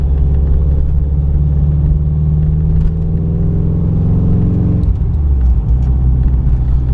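A tuned supercharged Subaru with a modified intake drives along a road, its engine giving a steady, loud, close-up droning rumble that shifts in pitch partway through, with no talking.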